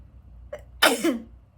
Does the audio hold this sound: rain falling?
no